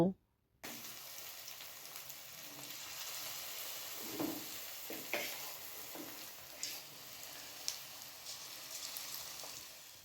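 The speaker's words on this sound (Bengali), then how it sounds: "এবার এক এক করে ফুলকপির বড়াগুলো আমি ভেজে নেব" Cauliflower fritters for chilli gobi fry in white oil in a wok, a soft continuous bubbling sizzle at low level after a brief silence, with a few faint clinks and scrapes; no talking.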